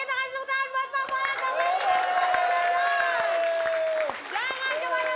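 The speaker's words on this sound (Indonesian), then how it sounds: "oke kita kasih tepuk tangan buat Pak Bola" Audience applause for Pak Bola at a Betawi comedy show featuring two comedians: steady clapping and crowd noise with loud voices calling out over it throughout.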